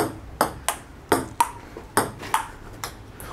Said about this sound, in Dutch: Ik heb Niek net ingemaakt met pingpong